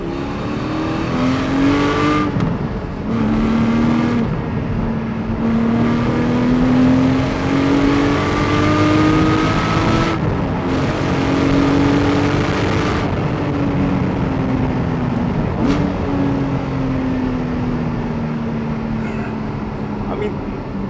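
A Porsche Cayman 718 GT4 engine pulls hard in sport mode, rising through the revs in long climbing sweeps broken by quick gear changes, loud and steady from inside the car while a voice talks over it.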